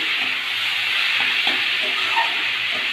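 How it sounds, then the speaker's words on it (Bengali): A steady, fairly loud sizzling hiss as vegetables are sautéed with spices in a pan, with faint scraping of stirring underneath throughout. "সবজিগুলো খুব সুন্দর করে মশলার সাথে কষাবো"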